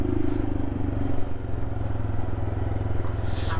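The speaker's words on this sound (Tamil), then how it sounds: "கொஞ்சம் இன்ஜின் கரங்குது." Royal Enfield Himalayan motorcycle engine running rough on normal petrol, a steady low idling throb with uneven mechanical clatter, close and loud with no talking.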